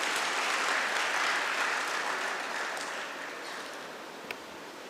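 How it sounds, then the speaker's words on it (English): A dense, sustained wave of audience applause fills a college annual day celebration hall to welcome Professor Arfaz, steady at first and then slowly thinning, with no voices over it. "join your hands for a huge round of applause"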